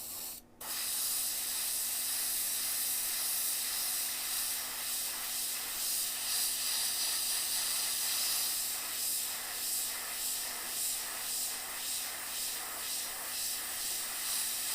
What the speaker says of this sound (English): Just kind of go in there and lightly, really lightly spray over that.